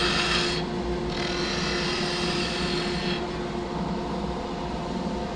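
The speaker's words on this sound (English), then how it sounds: "Second top, planing the cylinder so it's true." A skew chisel makes a planing cut along a spinning wooden cylinder for a top on a lathe, a steady close rasping hiss that swells and eases in strokes over the constant motor hum.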